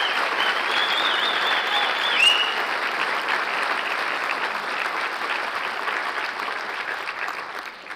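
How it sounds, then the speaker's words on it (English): Sustained audience applause fills a ceremony hall at the 2024 Crystal Apple Awards, an El Paso County PTA event. The clapping is dense and steady, holds at an even loudness for the whole stretch, and dips only slightly near the end. "we'll just give one big round of applause for those winners, nominees, family and friends all here tonight in celebration"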